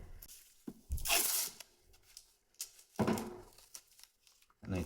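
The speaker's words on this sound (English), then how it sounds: "and I tape down this paddle." Tape is torn off a roll in a few short ripping bursts with crinkling in between, close up in a quiet workshop, ready to hold down the paddle switch on a sander.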